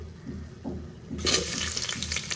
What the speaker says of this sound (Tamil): வெங்காயம் கட் பண்ணி வச்சுருக்கோம்ல ரெண்டு வெங்காயம் அதை வந்து சேர்த்துக்கிறேன்